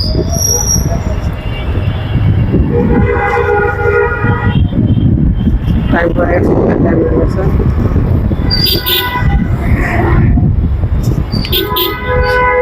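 A metro rail train runs near Motijheel's Shapla Chattar in Dhaka, its loud rumble and rolling wheel noise filling the scene with brief high squeals and tones, while people talk over it throughout.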